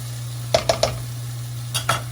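Soft tomatoes sautéing in a pan, with a faint steady sizzle under a few quick, close spatula stirs and scrapes, clustered in three taps and then two more, with no talking.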